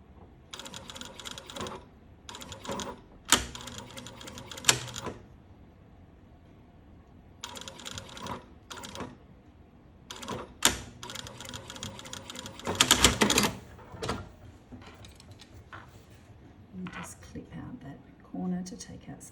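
A sewing machine stitching down a dress collar with a tie, several bursts of fast whirring stitching separated by pauses, with some quiet handling noises in between.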